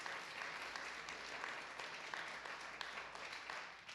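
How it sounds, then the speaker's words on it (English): Crowd applause fills a city council meeting chamber in Biloxi, a steady, dense wash of clapping from a large audience that holds at an even level for several seconds without pause. "Hold your other applause."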